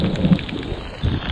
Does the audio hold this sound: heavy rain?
yes